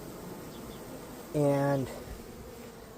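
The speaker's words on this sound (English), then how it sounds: "a colony of bees that was probably overpopulated in somebody else's hive" A short loud buzz of bees from a colony, rising for about half a second near the microphone over outdoor background noise, with a voice speaking briefly.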